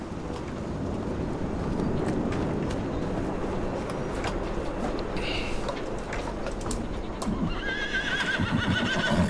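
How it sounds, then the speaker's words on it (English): Horses ridden in Farming Simulator 25 neigh and whinny while hooves clop steadily, with game ambience and light wind noise throughout and no talk over them. "Let's go over here and ride our horses."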